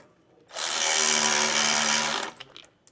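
A power tool runs in one steady, loud burst of about a second and a half, tightening U-bolts while installing a Roadmaster Exact Center steering stabilizer, then stops, followed by a few faint clicks.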